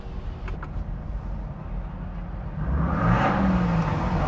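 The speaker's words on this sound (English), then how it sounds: "it's this dude in the truck getting rowdy right here" A pickup truck behind on a city street at night revs its engine, the roar swelling loud and rising partway through after a steadier stretch of traffic noise.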